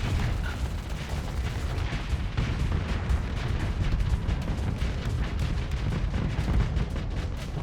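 Ship weapons firing in the space combat game Starsector, a dense continuous barrage of booming shots and rapid impacts, loud and unbroken, with no talk over it.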